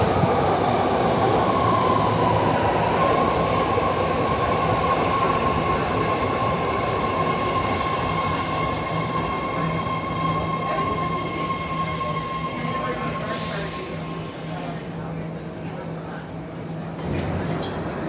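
A BART subway train rumbles steadily at a station platform with a persistent low hum and faint squeals, while indistinct voices murmur in the background.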